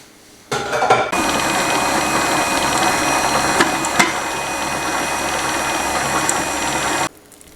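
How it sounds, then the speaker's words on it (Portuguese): A stand mixer beating cookie dough with chocolate chips, its motor starting abruptly and whirring steadily with mechanical rattling and a few knocks before cutting off. "Agora volta para a batedeira até misturar os ingredientes todos."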